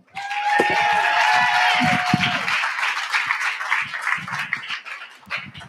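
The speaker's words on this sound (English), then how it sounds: "So please, a big round of applause." An audience at a live Ignite Denver speaking event bursts into applause for a speaker, loud and dense at first under a sustained whistle or cheer, then thinning into scattered claps with a few voices and a faint thump.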